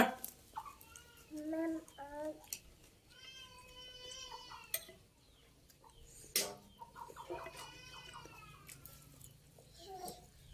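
Chickens, including a mother hen, cluck and call in repeated short bursts close by, with rising and falling notes from several birds overlapping.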